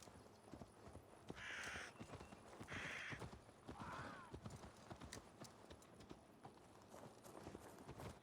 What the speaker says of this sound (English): His horse is following him.